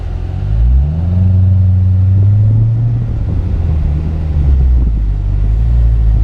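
2017 Corvette Z06 engine on launch control with the gas pedal floored, a loud, close rumble that rises as the revs climb, then holds at a steady high idle before swelling again.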